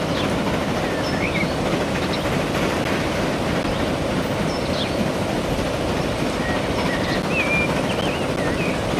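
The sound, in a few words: train passing in Transport Fever 2 video game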